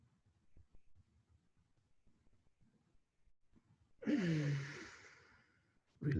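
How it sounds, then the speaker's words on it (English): A deep inhalation and sighing exhale during a Tummo fire-breathing meditation, one strong breathy swell fading slowly, then another breath starting, after quiet low rustling. "Take a deep breath."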